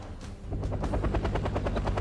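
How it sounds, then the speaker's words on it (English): An attack helicopter in the strategy game Wargame: Red Dragon opens fire, with a rapid, steady string of loud gun bursts over a constant rotor drone. "You can see my attack helicopter catching him in the act. And opening fire on it."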